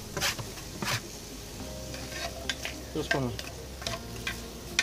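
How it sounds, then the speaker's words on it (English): Minced garlic, onion, green and red pepper and carrots sautéing in a Dutch oven, a soft steady sizzle broken by repeated scraping stirs of a utensil against the pot, close up, with a brief word spoken. "saute these a little bit"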